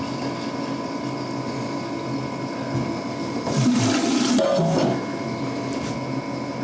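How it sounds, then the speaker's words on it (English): Water runs through a home brewing system for an American brown ale with a steady pump-like hum and hiss, swelling into a louder rushing gurgle for a second or so midway before settling back. "So the water's flowing."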